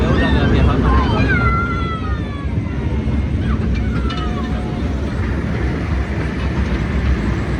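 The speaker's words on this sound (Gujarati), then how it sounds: "ટ્રેનનો રૂટ પૂરો થઈ ગયો. આ છે આપણી ટ્રેન," A toy train on rails around Kankaria lake in Ahmedabad rumbles steadily and close, with squealing wheel tones sliding across the first few seconds and people talking over the noise.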